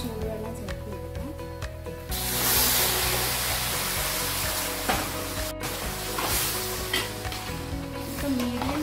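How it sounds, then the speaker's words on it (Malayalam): A pan of vegetables and dalda cooking for vegetable upma fizzes quietly until boiling hot water is poured in, which sets off a sudden loud sizzle that hisses on and off while stirring continues. "ഇനി നമുക്ക് ഇതിലോട്ട് തിളച്ച് ചൂടുവെള്ളം ചേർത്ത് കൊടുക്കാം."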